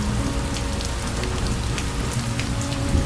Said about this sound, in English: You are held completely by this small world of cedar and tatami and endless soft rain.